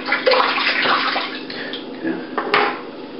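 Tap water runs and splashes as a razor blade is wet for shaving a head, a continuous close gush with small clinks, while someone talks over it.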